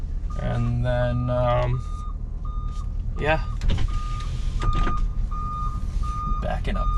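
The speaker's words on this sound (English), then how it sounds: "backing up this truck" An old truck backing up, with regular electronic reversing beeps repeating steadily over the engine rumble, and squeaks from the vehicle. Someone speaks briefly nearby.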